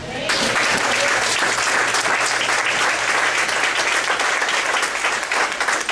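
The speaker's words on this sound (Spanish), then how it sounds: "¿Se atreve a dar un aplauso a Cristo?" A church congregation bursts into sustained, dense applause that stays loud and even for several seconds, filling the room without pause.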